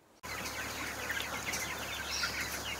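Farm chickens cluck softly and continuously in a poultry house, a faint steady background of many birds with occasional higher calls.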